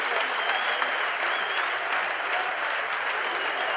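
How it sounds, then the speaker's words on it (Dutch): Sustained applause from the stands at a football match as a departing player makes his last walk to the sideline, a dense, steady roar of clapping from a large crowd with no break throughout. "Het applaus vanaf de tribunes"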